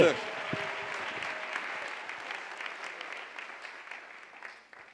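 A church congregation applauds during a sermon, dense clapping that starts loud and gradually thins and fades over a few seconds.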